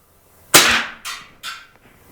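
A KWA M226 CO2 airsoft pistol fired in close succession, three sharp loud pops each trailing off in a short hiss, with a fourth starting at the end.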